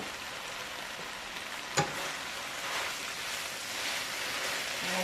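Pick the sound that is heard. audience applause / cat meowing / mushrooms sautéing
mushrooms sautéing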